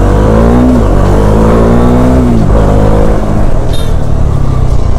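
A Kawasaki H2R motorcycle engine revs loudly and close, its pitch climbing and dropping through two rising pulls before settling into a rough, steady idle rumble on a city street.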